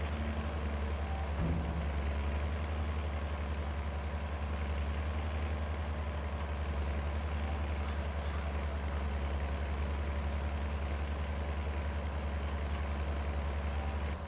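A four-wheel drive tractor unloads grass onto a bunker silo, its heavy diesel engine droning steadily and loud throughout with a low rumble, no voices.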